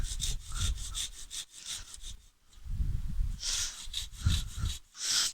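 A hand saw cuts a wooden dovetail halving joint, with repeated rasping back-and-forth strokes in a steady rhythm, close and fairly loud, briefly pausing midway before resuming, and no talking.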